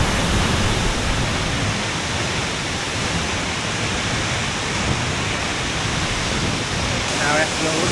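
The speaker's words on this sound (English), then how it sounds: "Waterfall." A waterfall at the Batad rice terraces in Banaue, Philippines, roaring as a loud, constant broadband rush of falling water close by, with no break.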